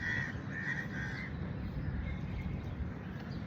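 Crows caw in an open park in Sharjah, a few harsh calls standing out early over a steady, noisy outdoor background.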